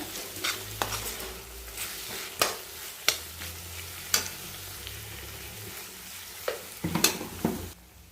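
Turmeric and green chillies frying in a pan for a spring onion curry, stirred with a utensil that scrapes and clacks sharply against the pan several times over a faint, steady sizzle.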